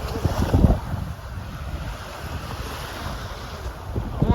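Wind buffets the microphone over the wash of Black Sea waves at Olenevka, Crimea, steady and fairly loud, with no talking.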